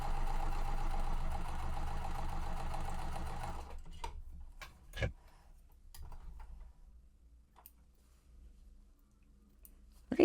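A sewing machine stitches quilt fabric pieces with a steady, dense mechanical whir for several seconds, then stops, leaving quiet scattered clicks and taps from handling the fabric.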